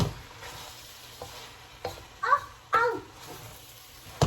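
A Costco stir fry sizzles and scrapes in a pan as it is tossed, with quiet frying under a few louder clattering stirs and brief child-like chirps.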